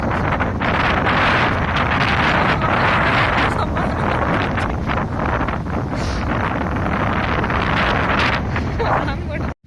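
Strong wind from Cyclone Dana roars loud and steady into the microphone throughout, a broad gusting rumble with surging bursts and no break until the very end.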